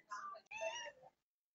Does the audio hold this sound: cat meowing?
yes